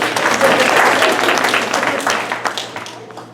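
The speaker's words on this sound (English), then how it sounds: "We'll clap anyway." An audience claps in a brief burst of applause that fades out over a few seconds.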